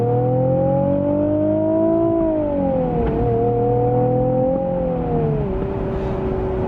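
A Nissan 370Z Anniversary Edition with a manual gearbox accelerates, its engine droning steadily and rising in pitch before dropping at each gear change, heard from inside with no talking.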